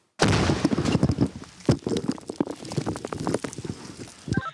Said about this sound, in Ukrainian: Гармата заряджена. Постріл!